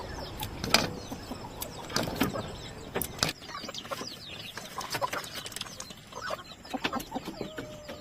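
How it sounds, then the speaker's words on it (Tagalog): Farm chickens cluck and squawk repeatedly while being hand-fed raw corn kernels, a busy, close flock with overlapping calls and occasional sharper cries. "Mga manok naman ang kaniyang papakainin."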